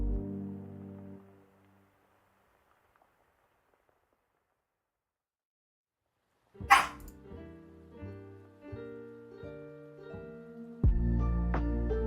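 A dog barks several times in short, sharp bursts after a stretch of near silence, fairly close and clear, ending with a louder burst of noise.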